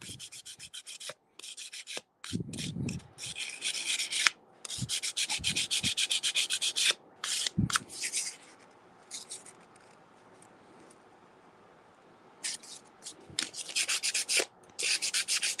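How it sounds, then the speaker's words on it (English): Abrasive scuffing of a patina-painted surface to bring out the copper underneath, heard as close, bursty rasping rubs in quick repeated strokes, with short pauses and a quieter stretch in the middle. "I'm just scuffing up the surface just to bring out some of that copper"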